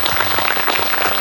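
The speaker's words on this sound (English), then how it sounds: "A little round of applause." Brief burst of steady applause from a small gathering honoring a man's wife, dense clapping filling the short moment without pause.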